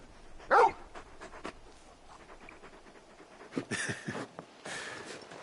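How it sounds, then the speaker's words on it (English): Panting from the large dog Torgal in the video game Final Fantasy XVI, soft breathy bursts with a brief whimpering yip near the start, fairly quiet and close. "You're just a big puppy, aren't you? A very big puppy."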